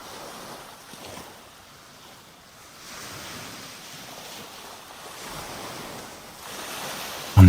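Ocean waves wash softly onto a beach, a faint, continuous surging hiss that swells and recedes with light wind, distant and calm with no voices.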